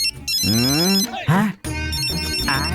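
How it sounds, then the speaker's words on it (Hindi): A telephone rings with a bright electronic ringtone, repeating in loud bursts with short gaps, while people talk over and between the rings in a domestic drama scene. "किसका फोन है, देखता हूँ।"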